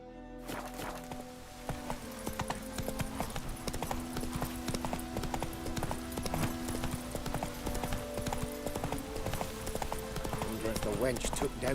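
The horse Roach trotting in The Witcher 3, a continuous rhythmic clip-clop of hooves over steady game ambience, close and fairly loud, with a voice speaking briefly over it.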